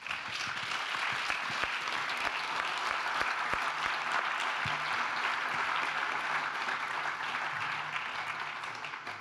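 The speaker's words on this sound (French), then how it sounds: "Il nous reste à vous remercier, à vous applaudir." An audience at a French talk on sport and youth gives sustained applause, a moderately loud wash of many hands clapping with a few sharper individual claps standing out, continuing evenly throughout.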